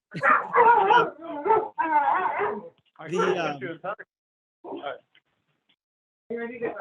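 Dogs bark and yip in a run of excited bursts, some whimpering, with short pauses between volleys and a final bark at the end.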